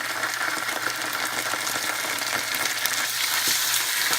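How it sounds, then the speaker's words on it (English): Ginger and garlic frying in oil in a pan with already-fried onions, a dense, steady crackling sizzle heard up close and continuous throughout, with occasional stirring clicks. "I'm just going to fry it for a few seconds."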